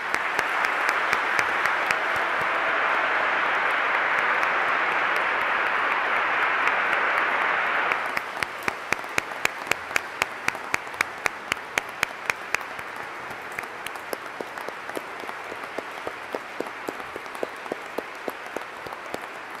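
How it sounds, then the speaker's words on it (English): An audience at a college honors convocation breaks into sustained applause, a dense roar of clapping that thins after several seconds into scattered, distinct claps from fewer people. "let's give one more final round of applause to these outstanding"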